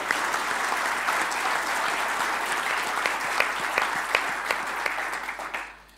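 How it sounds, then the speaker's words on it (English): Audience applause at a forum before a conference, a dense steady wash of many hands clapping that holds for several seconds and then tapers off at the end, with no voices over it. "Let's give him a round of applause."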